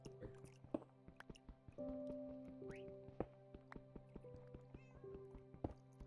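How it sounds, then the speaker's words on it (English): A cat meows a few times in a Minecraft game over a background of electronic game tones and soft clicks, fairly faint and mixed into the game audio. "I can hear the kitty."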